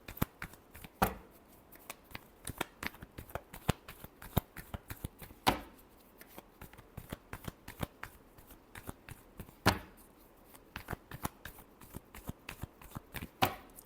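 Tarot cards being shuffled by hand, a steady run of crisp riffling flicks and slaps with a few louder snaps, close and alone with no talking.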